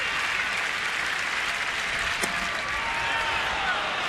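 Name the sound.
baseball crowd clapping at end of inning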